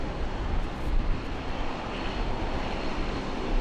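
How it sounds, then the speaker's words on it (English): A Korean Air Boeing 787 airliner taxiing out and departing from an airport's international terminal, giving a steady, broad jet-engine roar at moderate distance with no talking. "Looks like we've got the Korean Air 7879 taxiing out from the international terminal."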